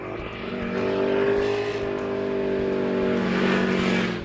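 Ducati Panigale motorcycle being ridden, its engine droning steadily close to the mic with shifting pitch as it accelerates, mixed with wind rush and no talking.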